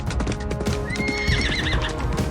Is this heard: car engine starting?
no